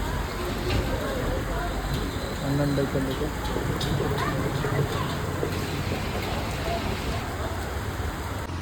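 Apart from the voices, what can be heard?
heavy rain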